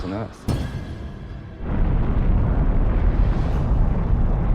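A supernova core-collapse explosion rendered as a sound effect: a sharp burst opens, then a deep, loud, sustained rumbling roar builds and fills the rest of the passage.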